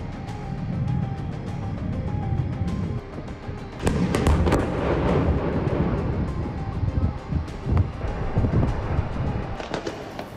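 Repeated blasts and crackling bursts from white phosphorus bomb strikes on Gaza in news footage, loud and continuous with rumbling low-end and sharp cracks, sounding distant and wind-buffeted with no talk.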